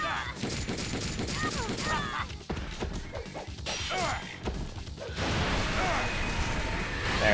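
Gunfire in the video game Ninja Gaiden Sigma rattles in rapid bursts amid crashes and whooshes, with a dense, chaotic mix of explosive effects throughout.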